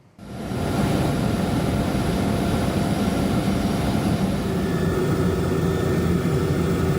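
An Indonesian Air Force helicopter flies over flood and landslide areas around Sibolga and Tapanuli, North Sumatra, giving a loud, steady, close engine and rotor drone that holds unbroken throughout with no voices.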